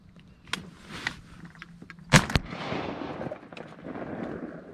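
A single sharp shotgun blast while duck hunting, one loud crack about midway with a brief rolling echo outdoors, surrounded by faint rustling and movement.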